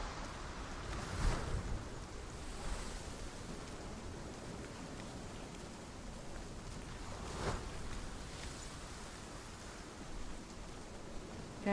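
Ocean waves in the video game Hellblade: Senua's Sacrifice, a steady broadband wash of surf with a few gentle swells rising and falling, continuous and moderately loud with no talk.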